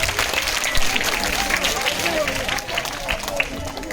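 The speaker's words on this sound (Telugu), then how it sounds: "బూబుకి క్లాప్స్ కొట్టండి అందరూ." A children's day audience claps for a young child named Boo, a brief burst of scattered applause mixed with crowd chatter and a voice talking.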